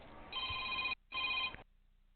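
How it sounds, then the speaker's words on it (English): A phone rings twice in a workshop during a MacBook logic board repair, each bright electronic trill lasting under a second with a short gap between, close and clear over a faint background hum. "Phone is annoying."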